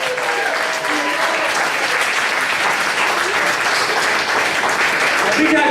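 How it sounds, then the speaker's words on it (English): Audience gives a team a loud round of applause at a game event, steady crowd clapping continuing strongly from start to finish with some voices and cheers mixed under it. "Give it up, round of applause for Team C4."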